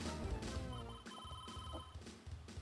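A cell phone in a portable mini-game collection rings with a bright electronic trill over busy game sound effects and background music, loud and steady for a couple of seconds.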